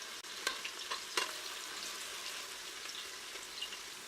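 Onions and ground crayfish frying in hot oil for a gizdodo dish, a steady close sizzle with a few brief stirring clicks and scrapes near the start, and no talking.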